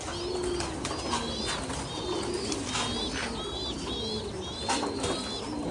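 Pigeons on a farm, repeated soft cooing calls overlapping at close range, mixed with light chirps over a steady background hum.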